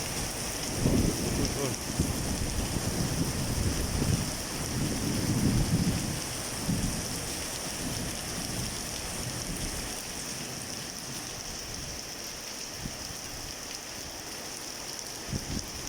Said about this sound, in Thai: ลมก็เริ่มเบาแล้ว แต่ฝนยังแรงเลยเอ้ย